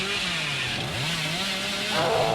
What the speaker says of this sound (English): The chainsaw right on them.